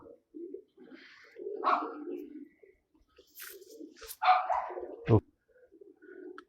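Low, rounded cooing comes from a female pigeon in a fancier's loft, in short separated bursts with pauses, plus one sharper, louder call near the end.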